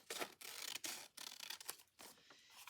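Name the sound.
scissors cutting an old paper envelope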